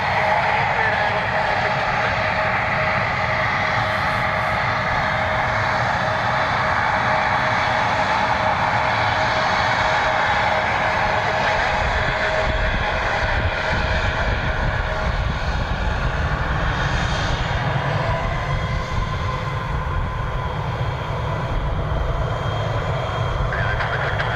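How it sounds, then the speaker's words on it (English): United Airlines Boeing 757-300 on final approach at Cleveland, Ohio, in calm winds: a steady, continuous airliner engine roar holds throughout at moderate distance, with a person talking over it. "United Flight 2629 on final 4-6 left."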